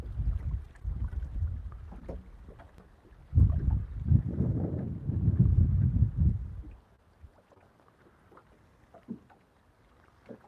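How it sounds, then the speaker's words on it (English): Wind rushes and buffets across the microphone on a boat on Lake Morena during bass fishing, a steady low roar that swells into a stronger gust midway, then eases to a quieter breeze with faint water knocks. "this wind is coming from the opposite direction it normally comes too"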